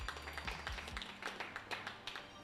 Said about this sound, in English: we get not just a round of applause from this table, it sounded like also from our other table